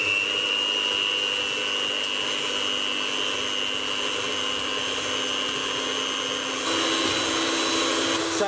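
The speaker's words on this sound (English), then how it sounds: "with our hand mixer, beat this on a high speed" A hand mixer on high speed beats egg whites for Christmas buttercream macarons with a steady, continuous electric whine close by. The pitch shifts slightly near the end, and no one speaks.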